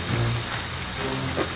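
Steady rain hiss in a video game, a dense continuous patter at moderate level with faint low tones underneath and no clear talk.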